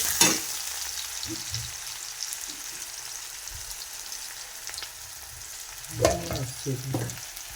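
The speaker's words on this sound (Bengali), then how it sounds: "পেঁয়াজটাকে একটু লাল লাল করে ভেজে নেব" Chopped onion frying in oil until reddish, a soft steady sizzle broken by a spoon stirring and scraping against the pan in a few clustered knocks, close and without speech.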